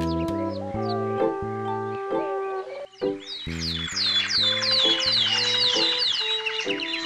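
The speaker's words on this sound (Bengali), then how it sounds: "দিন দুপুরে পাখিগুলো এমন করে ডেকে উঠে উড়ে গেল কেন?" A flock of birds bursts into rapid, high, chirping calls midway through, layered over a loud stepped musical score in an animated ghost story, with no voices.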